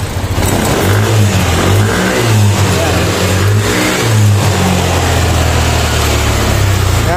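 A fuel-injected motorcycle engine revving loudly and close after a throttle body cleaning, steady engine roar with repeated rises and falls in pitch as the throttle is blipped, a voice faintly underneath.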